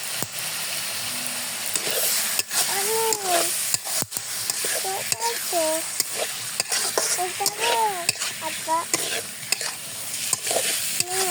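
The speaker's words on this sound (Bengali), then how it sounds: "গোশতটা আমি ভালোভাবে কষিয়ে নেবো।" Beef for a spicy curry is stir-fried in a pan with a steady sizzle, broken by sharp scrapes and knocks of a utensil, while someone talks over it.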